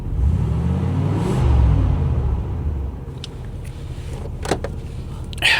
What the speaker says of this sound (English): but we're revving it.